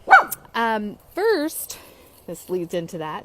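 A small Chihuahua-Maltese mix dog barks close by in a run of sharp, high yips and whiny barks separated by short pauses.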